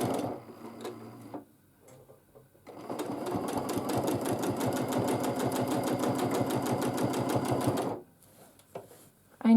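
A sewing machine stitches free-motion quilting in dot-to-dot lines, its needle hammering in a fast, steady run of close, loud ticks for several seconds, with quieter pauses before and after.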